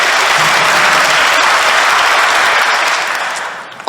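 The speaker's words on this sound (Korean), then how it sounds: "박수로 응답해 주십시오." A congregation at a Christmas mass in Incheon breaks into loud, sustained applause that holds steady, then tapers off near the end.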